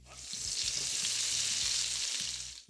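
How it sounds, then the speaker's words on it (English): Roughly diced Spam sizzles in a wok over high heat, a bright, steady hiss that swells and holds for a couple of seconds before fading, heard close with faint stirring underneath and no speech. "I'll get this one roughly diced and into a wok on high heat"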